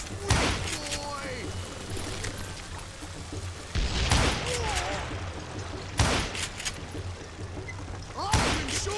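Gunfire in the western shooter Call of Juarez: Gunslinger, four heavy booming shots at irregular intervals, each with a reverberant tail, while game characters shout taunts between them.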